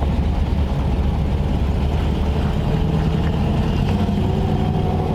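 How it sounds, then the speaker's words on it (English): A 1940 Ford Tudor with a repaired carburetor and exhaust, heard from inside while driving: a steady, loud, low engine and exhaust drone that holds even throughout, with no talk over it. "The exhaust is nice now, man. You can, you know, all you hear is the engine."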